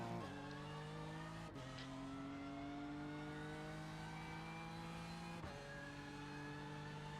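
Race car on a cautious out lap on cold tyres at Bathurst in iRacing, a steady engine drone climbing through the gears with two sharp gear-shift drops, close and continuous with no talk.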